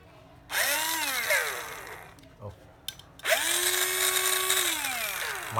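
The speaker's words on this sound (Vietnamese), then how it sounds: "Khoan Hitachi." An old used Hitachi 7.2 V cordless drill whines up to speed, cuts out briefly with a couple of clicks, then spins up again into a steady high motor hum, close and loud.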